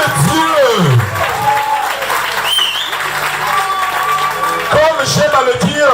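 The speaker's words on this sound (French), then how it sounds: "C'est un tiers des invités qui applaudissent" Party guests at a birthday celebration clapping steadily close by, dense sustained applause with voices shouting and talking over it.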